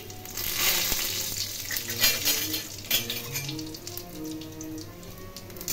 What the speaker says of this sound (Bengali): এর মধ্যে জিরে ফোড়ন দিয়ে দিলাম